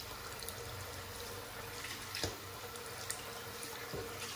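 Cold tap water runs steadily into a sink as the face is wetted before a straight-razor shave, a quiet continuous hiss with a few soft splashes and no talking.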